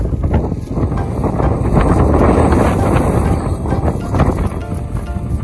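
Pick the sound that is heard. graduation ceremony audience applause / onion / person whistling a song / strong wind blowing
strong wind blowing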